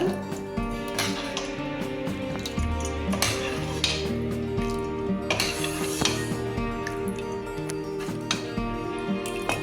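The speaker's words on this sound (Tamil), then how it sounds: "ஸ்டெயின்லெஸ் ஸ்டீல் பவுல் தான் எடுத்திருக்கேன் அதில் நம்ம வந்து மசிச்சு வச்சுருக்கிற இந்த கிரேவியை விட்டுக்கலாங்க" Mashed gravy is ladled into a stainless steel bowl, with repeated metallic clinks and scrapes of the ladle against the steel over a steady low background hum.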